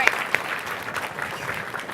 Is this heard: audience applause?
yes